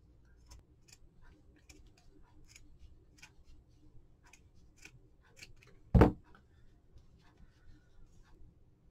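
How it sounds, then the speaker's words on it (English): Scissors trim the fiber beard of a Dollar Tree craft gnome, with faint light ticks of cutting building to one sharp, close snip near the end before the room goes quiet. "I'm going to trim across the entire beard,"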